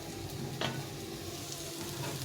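Water poured into a spice and yogurt mix in a hot pan sets off a soft, steady sizzle with a brief splash, heard close and fairly quiet.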